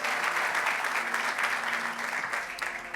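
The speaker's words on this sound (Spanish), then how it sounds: "Dele un aplauso bien fuerte a nuestro." A church congregation at Ekklesia New York breaks into loud, sustained applause, a dense wash of many hands clapping close by, with a faint low tone and murmur beneath that fades slightly near the end.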